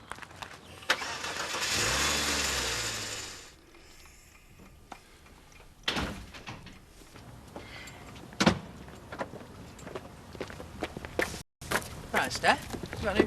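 A new car's engine cranks and fires up close by, a loud whirring burst for a few seconds that cuts off, followed by clicks and a door-like thud with people talking.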